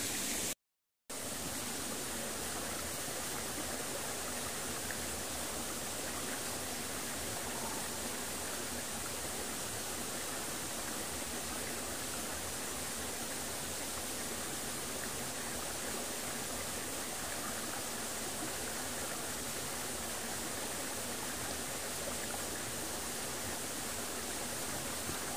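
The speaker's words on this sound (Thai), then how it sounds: "บางทีแล้วก็มีแต่เสียงน้ำตกเท่านั้" Steady, broadband rush of falling and flowing water, loud and continuous throughout like a nearby waterfall, with no voices.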